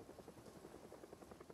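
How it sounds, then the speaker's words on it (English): A helicopter passes overhead in the zombie survival game Project Zomboid, its rotor giving a faint, steady low thudding pulse that beats rhythmically under a muffled engine drone. "Got the helicopter."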